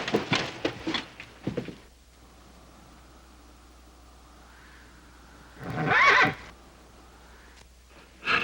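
A horse neighs loudly once in the middle of a quiet stretch, a sharp whinny between bursts of other noise, with no talk.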